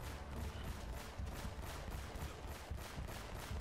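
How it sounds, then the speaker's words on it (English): Handheld gunfire in Uncharted: Drake's Fortune, a steady stream of rapid, evenly spaced shots running throughout at moderate, fairly distant level with dense game noise underneath. "Okay, I'm pretty sure I'm shooting you."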